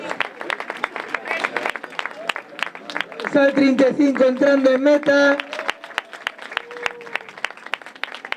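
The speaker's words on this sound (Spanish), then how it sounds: "ahora xa podedes empezar a aplaudir" Spectators clap at the finish of an open-water island swim in Rúa Ribeira, scattered sharp claps continuing throughout as an announcer speaks over a loudspeaker midway.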